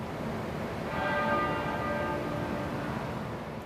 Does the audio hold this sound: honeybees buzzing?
no